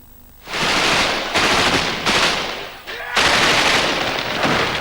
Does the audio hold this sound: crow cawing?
no